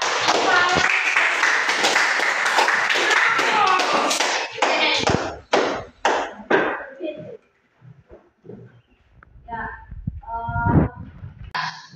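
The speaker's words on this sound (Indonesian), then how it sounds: "Aplaus dulu untuk kelompok dua" Classroom applause for a student group, a burst of many hands clapping loudly at first, then thinning into scattered claps and a few voices as it fades out.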